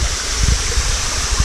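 Water splashes and trickles steadily through a carp pond filter's shower tower packed with medium-density filter mat, a continuous close rushing wash with no voices.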